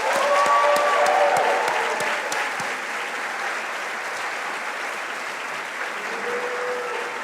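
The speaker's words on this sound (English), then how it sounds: "Let's give them a big round of applause" An audience at a high school senior academic awards ceremony claps for students being honored, loud at first and then settling into steady, even applause that carries on alone.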